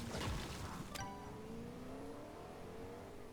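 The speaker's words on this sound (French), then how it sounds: "Il se barre en voiture." A car engine in a nighttime video game revs up at the start, then recedes and fades as the vehicle drives away, leaving a faint low drone.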